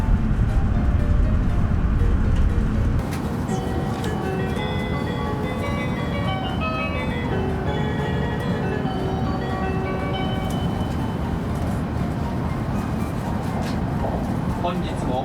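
A Hayabusa Shinkansen bullet train on the Hokkaido Shinkansen heading for Tokyo pulls away, a steady broadband rumble and hum with tonal whines and chime-like tones, loud and continuous with a denser burst in the first three seconds.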